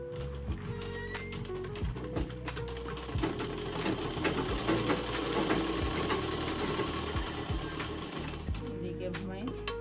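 A sewing machine runs steadily, double-stitching the shoulders of a dress. The mechanical whirring is rapid and continuous, with fabric handling clicks and no one talking.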